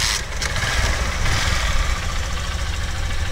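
A Honda CG 125i Fan 125cc motorcycle idles steadily after a kick start, a continuous low engine rumble with light mechanical knocking, close and even throughout with no talking.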